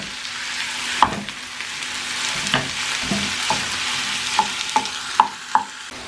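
Meat fries with onions in a pan, a continuous close sizzle broken by several sharp scraping knocks as it is stirred and chopped, with no voices.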